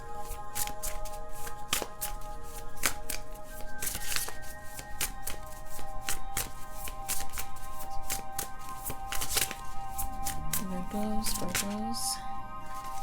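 Tarot cards being shuffled by hand, a long run of close, crisp riffling and flicking snaps that repeat steadily, with a faint voice murmuring near the end.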